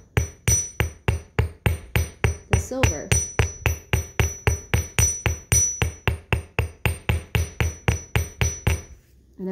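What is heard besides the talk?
hammering silver ring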